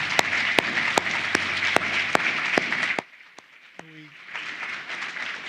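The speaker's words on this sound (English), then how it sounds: "Please join me in another round of applause for Representative Scanlon." Audience applause at a Legal Services Corporation 50th anniversary forum, a dense crowd of clapping at fairly close range that cuts off sharply after about three seconds, followed by quiet room noise with a brief tone.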